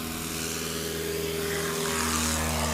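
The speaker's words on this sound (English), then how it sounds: "Oh, nice takeoff for him." A STOL propeller aircraft takes off at Patriot Airpark during a short-takeoff competition, its engine a loud, steady droning roar with a constant low hum throughout.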